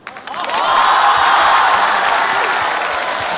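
Studio audience at a Chinese television music show breaks into loud, sustained applause with cheering, swelling quickly and holding steady as the veteran singer is called back to the stage.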